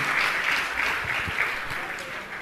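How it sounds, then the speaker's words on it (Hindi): An audience at a religious discourse gathering applauds steadily, a loud sustained wash of clapping from a crowd that carries on throughout without a break. "जोरदार ताली करके सम्मान करें।"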